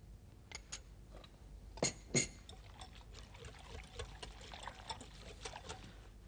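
Dark chocolate is poured into hot milk for a pudding on a television cooking show, giving a faint liquid trickle with a couple of brief, louder splashes and light clinks in a quiet kitchen.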